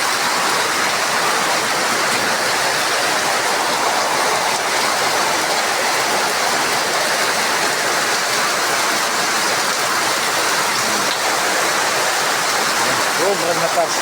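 Heavy evening rain pouring down in Kidapawan, a dense, loud, unbroken roar of water that holds steady throughout.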